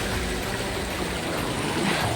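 Strongly flowing water rushes in a steady, continuous broadband wash from start to finish, with no voices.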